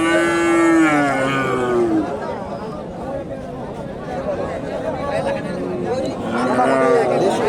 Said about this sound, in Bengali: এখানে একটা গাভী দেখাই আপনাদের দেশি গাভী